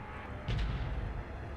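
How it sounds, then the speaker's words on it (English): Cannon firing in a video game, one deep booming blast with a low rumbling tail over a steady background of game noise, fairly quiet overall. "I guess we're just gonna use a cannon."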